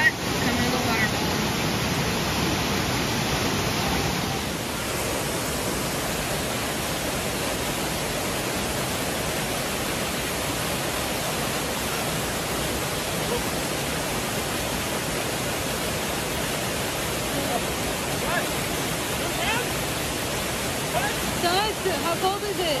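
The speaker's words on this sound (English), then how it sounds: "When it's hot, come to the waterfall." Rutledge Falls in Tennessee roars as a dense, steady wash of falling water, loud and continuous throughout, close by with no break.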